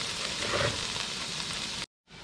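Golden fried chicken wings tipped into a hot pan of oil set up a loud, close, steady sizzle that holds for nearly two seconds, cuts out briefly, then resumes.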